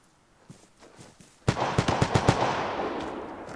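Gunfire in the video game Vigor: a few faint distant shots, then a loud close burst of rapid automatic fire, five or six sharp cracks in quick succession that trail off into echo.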